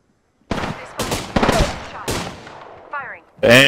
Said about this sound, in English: Firing. Bam. Reloading.